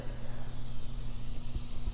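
3M multi-purpose spray adhesive is sprayed onto wood in one steady, close, continuous hiss lasting about two seconds, with a faint low hum underneath.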